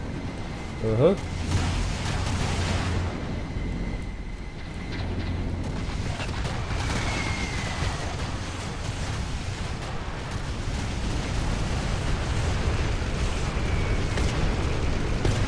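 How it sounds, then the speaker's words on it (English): Napalm bombardment and EMP bomb explosions from the Rise of the Reds real-time strategy game rumble continuously, a dense roaring wash with a brief burst near the start, while someone talks over it. "in comes a napalm bombardment, then the, I think an EMP bomb"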